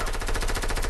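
Rapid machine-gun bursts from an online shooter video game, a loud continuous stream of closely spaced shots with no pause across the short stretch.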